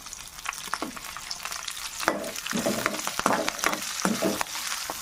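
Mustard seeds and cumin fry in hot oil in a pan for a curry, giving off crackling pops and a sizzle with some stirring. The sound is close and uneven, and no one speaks.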